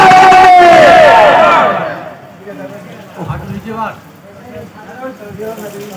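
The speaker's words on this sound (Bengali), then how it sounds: "সবাই মিলে জোরে বলো নারে তাকবীর" A crowd at an outdoor stage event in Canning loudly chanting the Nara-e-Takbir slogan, a big unison shout that fades out, followed by scattered voices and murmuring.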